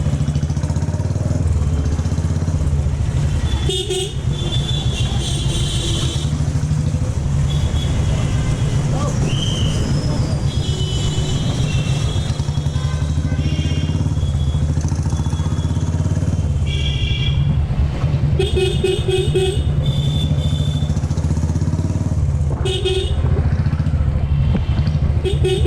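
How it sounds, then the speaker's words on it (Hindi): Heavy road traffic with motorcycles and cars passes close by, with engines rumbling steadily and several bright horn honks cutting through at intervals. "इधर से जा रहा हूँ तो भी ट्रैफिक है"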